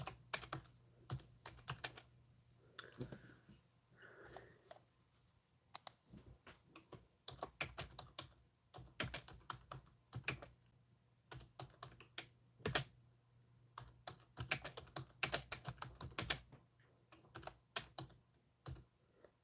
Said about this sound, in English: I'm still typing I gotta type my description now.